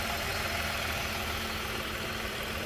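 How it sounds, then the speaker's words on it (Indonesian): Renault Triber 2021 RXZ AMT, 1.0-litre three-cylinder engine idling with the bonnet open, a steady close hum with no speech over it. "ini dia mesinnya, 1000 cc 3 silinder ya"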